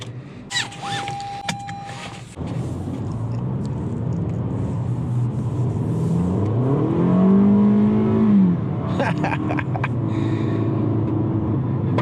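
A 2019 Toyota RAV4 with a 2.5-liter four-cylinder engine driving, a loud cabin hum that rises as the engine revs up and settles, with some clicks and switch sounds at the start and near the end.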